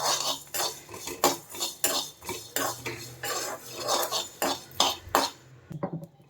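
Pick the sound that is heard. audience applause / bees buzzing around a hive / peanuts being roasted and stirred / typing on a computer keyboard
peanuts being roasted and stirred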